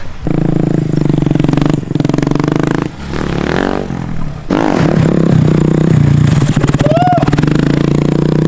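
Honda Grom motorcycles ride past close by, their small engines droning and revving loudly with a brief dip in throttle midway, mixed with scraping and clattering, and a few faint voices underneath.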